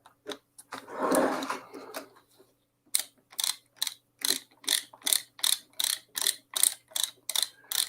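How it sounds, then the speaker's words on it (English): A ratcheting screwdriver clicks fast and close during a 3D printer teardown, with a broad scuffing handling noise first, then a steady run of a dozen or so sharp, evenly spaced ratchet strokes alone. "Ratcheting screwdrivers are the bomb"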